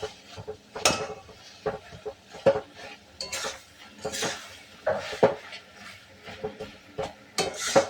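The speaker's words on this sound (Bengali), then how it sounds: "লাস্টে এইভাবে সবজিগুলো একটু মিশিয়ে দেবেন" Vegetables stirred together in a pan for a vegetarian mango-flavoured curry, with repeated scraping and clinking of a utensil against the pan in an irregular rhythm, close and moderately loud, with no voices.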